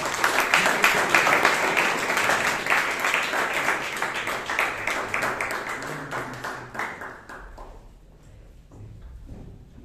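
A crowd applauding at a Toastmasters club meeting, dense and steady clapping that gradually thins out and fades toward the end.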